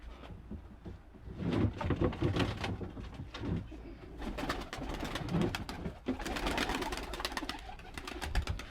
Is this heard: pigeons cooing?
yes